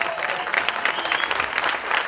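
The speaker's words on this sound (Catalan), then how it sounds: "Fortíssim aquest aplaudiment, sisplau!" An audience at an awards ceremony claps loudly and continuously, a dense wash of applause from a crowd filling the room.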